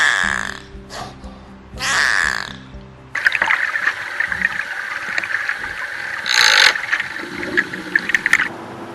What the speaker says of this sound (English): The first thing you're going to hear are creaks of a beluga whale